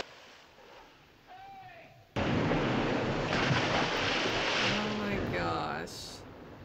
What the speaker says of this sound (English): I thought that was boiling water.